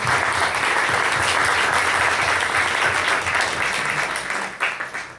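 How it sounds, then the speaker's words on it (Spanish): A round-table audience breaks into a big round of applause, loud and dense clapping that holds steady for several seconds before thinning out at the end. "en primer lugar se merecen un gran aplauso"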